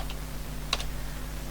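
A few sparse keystrokes on a computer keyboard, light clicks over a steady low electrical hum, with one small cluster of taps near the middle and no talking.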